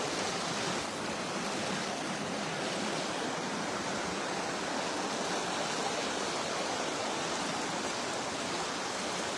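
Floodwater rushes across a washed-out road in Aiken County, running off a polo field and cutting into a hayfield bank; a loud, steady, broadband roar of churning water fills the whole stretch without pause.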